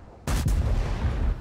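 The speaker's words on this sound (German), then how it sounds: "Da klingelt der erste Schuss endlich mal die Runde rein." A 50TP Polish heavy tank's cannon fires a single loud boom in a tank video game, with a sharp blast followed by a long rumbling tail that fills the rest of the moment.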